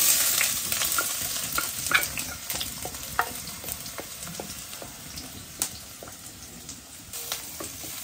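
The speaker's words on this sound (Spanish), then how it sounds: "Bien caliente mi aceite, es momento de que le agregue yo la cebolla y el ajo." Onion and garlic sizzle in hot oil in a clay pot, a steady bright frying hiss with small crackles and occasional stirring taps, close and alone without talking.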